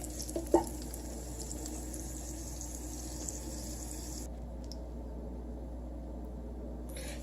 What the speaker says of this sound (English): we're done frying up the chicken in olive oil and scallion